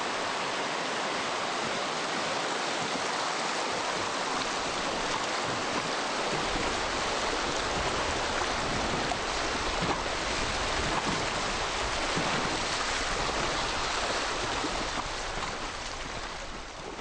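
A river flowing with white water, a dense, steady roar of rushing water that stays loud and even throughout, with no voices.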